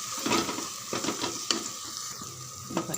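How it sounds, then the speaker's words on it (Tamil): Biryani masala with mint and coriander is stirred in a frying pan, a continuous sizzle with repeated scraping strokes at a steady rhythm, close by and without speech. "நல்லா கலந்து விடுங்க."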